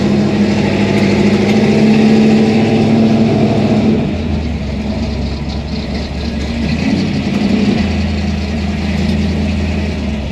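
A 1964 Chevy II gasser with a tunnel ram and dual quads idles loudly and steadily up close, its low rumble shifting pitch slightly a couple of times before settling.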